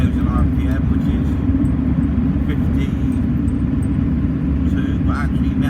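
A van fitted with a Puma 2.2 diesel engine drives along the road, its steady low engine drone and road rumble continuous throughout, with faint higher noises passing briefly above.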